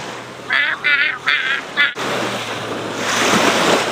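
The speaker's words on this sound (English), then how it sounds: "Look at the waves." Cold ocean waves break on a shore in Sweden, a broad, steady wash of surf that follows a few short, high, chirping sounds at the start.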